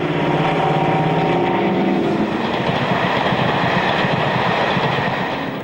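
Class 55 Deltic locomotive 9006 heading south through Potter's Bar with an express from Newcastle, a loud, steady roar of diesel engine and rolling wagons passing close by, with a rhythmic clatter of wheels over rail joints building as it goes.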